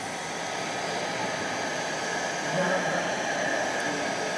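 Heat gun blowing hot air to warm paint protection film being wrapped onto a new Porsche Targa body panel, a steady broadband whoosh, close and continuous throughout.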